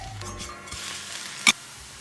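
Food frying in oil in a pan over medium-low heat after being flipped golden, a steady soft sizzle with a brief sharp clatter near the end.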